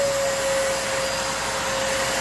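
A vintage Fantom vacuum cleaner hums along with its brush roll switched off, giving a steady, loud, close airy roar with a constant whine and no talking.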